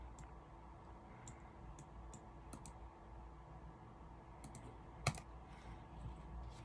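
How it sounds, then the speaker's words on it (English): Someone types on a Smart Duck XS61 mechanical keyboard with Cherry MX Brown switches: quiet, scattered keystrokes with one sharper, louder clack near the end, in a hushed room with no talking. "I just got the keyboard and I've reviewed it, and this thing is amazing. Cherry MX Browns."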